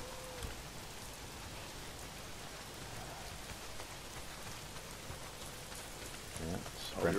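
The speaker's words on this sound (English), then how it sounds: "Well, not if it's pissing down rain." Steady heavy rain pours down in the Days Gone video game, a constant hissing wash of droplets on surfaces, with a louder burst of noise near the end and no speech.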